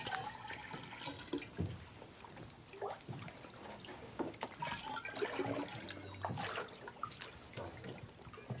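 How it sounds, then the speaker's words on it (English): Water splashes and trickles as leather buckets are filled at an outdoor water source in a stone-built marketplace, a steady faint pouring and gurgling with scattered drips and splashes. "then fills leather buckets with water."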